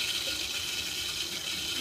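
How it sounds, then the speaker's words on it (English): Water spurting and hissing steadily from a leaking joint in a chemistry lab demonstration setup, a continuous close broadband gush with no talk over it. "You see water's trying to spurt out."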